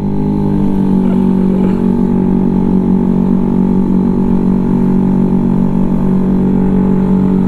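Honda Vario 210cc scooter engine running at low RPM during break-in riding, a loud, steady, close drone with a buzzing, helicopter-like hum and no clear revving surges.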